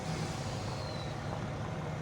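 In Farming Simulator 25, a game truck with air brakes idles with a low, steady engine rumble and a faint hiss in the background, with no voices.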